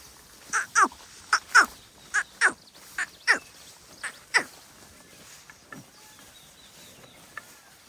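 Peafowl in the Gir region give a run of loud, sharp, honking calls, about eight in close succession, then fainter, scattered calls trail off into quiet.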